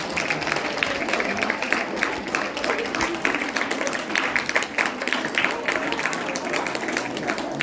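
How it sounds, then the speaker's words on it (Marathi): Audience applauding for the head of a residential camp for seventh-grade students in Velhe: a steady wash of many hands clapping throughout, fairly near, with a murmur of voices mixed in. "जोरदार टाळ्या आपण धुमाळ सरांसाठी वाजवूया."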